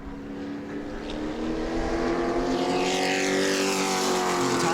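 A pro race truck on a qualifying lap at New Smyrna Speedway roars loud and close under full throttle, its engine note holding steady and climbing slightly in pitch as it drives toward the checkered flag.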